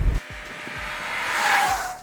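A Skoda Kushaq SUV with a 1 litre TSI engine revs inside the cabin, a smooth rising engine note climbing steadily over two seconds after a brief thump.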